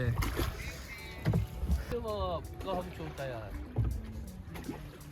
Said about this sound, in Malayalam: നമ്മളെ ശിക്കാരെ തുഴഞ്ഞോണ്ടിരിക്കുന്നത് കേട്ടോ